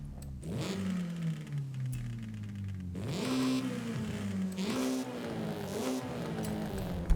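A small turbocharged car engine in Forza Horizon 5 revs hard through several gear changes, the pitch rising and dropping repeatedly, loud and close, with no voices.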